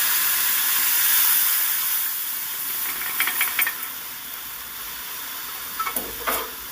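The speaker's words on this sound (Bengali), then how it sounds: "এবার ডালটাকে আমি ফোড়নের মধ্যে দিয়ে দিলাম" Dal poured into hot tempering spices in a pan gives a loud, steady sizzle and steam hiss that gradually eases, with a few quick clinks of a stirring utensil toward the end.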